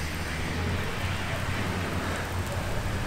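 Heavy rain during a storm while riding a motorcycle, a dense, steady roar of downpour that stays loud and unbroken throughout, with no voices.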